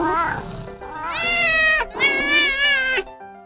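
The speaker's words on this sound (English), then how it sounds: "saw the 2 cats fight over the cheese" Two cats yowling and meowing at each other in a fight, a rising drawn-out caterwaul followed by a second long wail, loud and close, with no talking.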